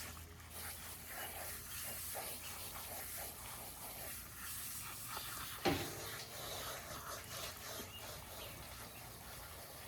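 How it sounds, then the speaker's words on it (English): Steady hissing spray of water from a garden hose washing a Highland bull calf runs throughout, with a brief sharper burst midway and faint background noise. "I'm gonna try to not spray myself with my hose."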